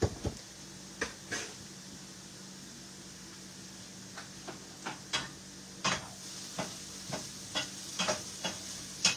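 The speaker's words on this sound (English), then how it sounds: "Still just mixing up those peppers." Chopped peppers stirred in a bowl for shrimp and crab burgers, giving scattered scraping, clacking strokes at an irregular pace, close and moderately loud over a low steady hum, with no talking.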